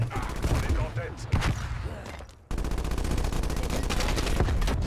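Grenade explosions and heavy gunfire in a Call of Duty multiplayer match, rapid loud bursts of blasts and shots crowding together, with a brief lull before the barrage resumes.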